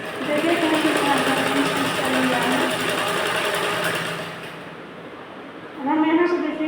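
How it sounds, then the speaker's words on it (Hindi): A sewing machine stitches a round blouse, its fast steady whirring loud and close before easing off and then starting again, with someone talking over it. "इस तरह से बराबर करते हुए इस भाग को भी स्टिच कर लेंगे।"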